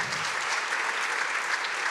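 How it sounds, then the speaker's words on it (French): An audience at an economics conference claps steadily, a dense, even wash of applause from a sizeable crowd filling the whole moment without pause. "Merci d'applaudir Anaïs Hermouet"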